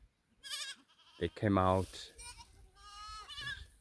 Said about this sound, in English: Look at these goats.